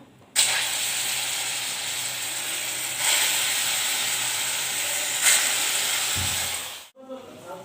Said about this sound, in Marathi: लोखंडी कढईमध्ये तेल गरम करायला ठेवलेलं आहे ते गरम झालेलं आहे त्यामध्ये आपण असे वडे टाकून घेऊया